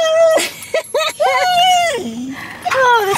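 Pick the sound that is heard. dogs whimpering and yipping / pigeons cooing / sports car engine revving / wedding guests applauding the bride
dogs whimpering and yipping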